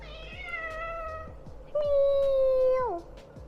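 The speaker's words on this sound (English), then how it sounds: "my cat just literally jumped on me" A pet cat meows indoors, two drawn-out, close cries: a wavering first call followed by a louder, steadier second one that bends downward at the end, over a quiet room background.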